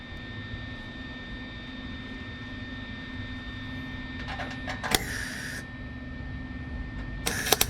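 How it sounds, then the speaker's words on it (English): A welder tacks a steel frame beneath a 1949 Studebaker body, with two short crackling, hissing arc bursts, the second slightly longer, over a steady low shop hum. "so I can get a couple tack welds on it"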